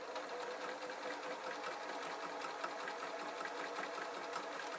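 A sewing machine joins pieces of fur for a dog's Christmas stocking, its motor and needle running in a fast, even, continuous chatter close by for the whole stretch, with no voices.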